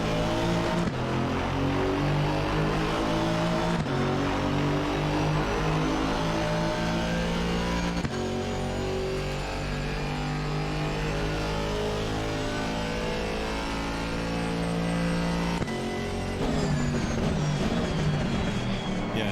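An Aston Martin Racing GT4 car engine in Assetto Corsa Competizione screams continuously, revving up and shifting through gears repeatedly, loud and steady with no pauses.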